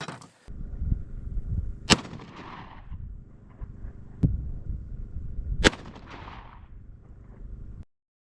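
Underwood Extreme Penetrator 80 grain rounds fired in material penetration testing, with three sharp, loud gunshots spaced a few seconds apart over a low rumbling background.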